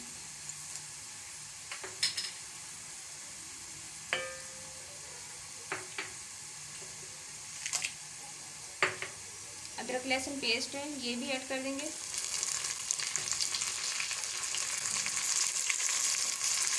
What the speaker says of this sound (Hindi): टमाटर ऐड करेंगे और इसे 2 से 3 मिनट तक फ्राई करेंगे